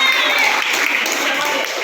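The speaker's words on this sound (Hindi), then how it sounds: "इन झुंड के लिए तालियां।" Applause from a school class greeting a quiz team during a tenth-grade activity, a dense, steady clatter of many hands close by, with speech partly under it.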